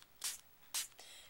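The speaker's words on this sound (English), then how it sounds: "we're going to spritz this flower" Two short bursts of color spray spritzed onto a tissue paper flower, each a quick hissing puff, close and fairly quiet, with a fainter third puff at the end.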